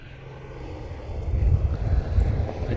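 An American Airlines airliner arriving from LAX rumbles low and distant, swelling louder midway, with wind buffeting the microphone.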